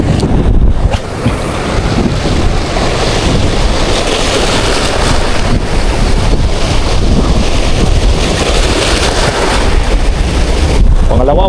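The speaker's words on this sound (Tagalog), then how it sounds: "malakas yung alon, malakas yung hangin" Strong wind buffets the microphone on an exposed shoreline fishing spot in Eastern Samar, with rough waves and surf roaring underneath, loud and continuous throughout.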